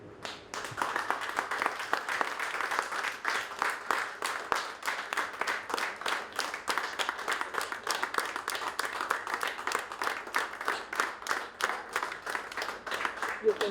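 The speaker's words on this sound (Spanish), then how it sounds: "le vamos a dar también 30 segundos de aplauso al Museo y" Audience applauding the Museo y Centro Cultural Nertume at a popular power forum: dense, steady clapping from a crowd sustained for many seconds, moderately distant, with no talk over it.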